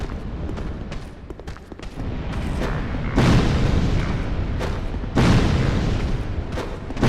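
Fire bomb explosions in the Dark Souls video game, two heavy booming bursts about two seconds apart, layered over a continuous rumbling din of game sound.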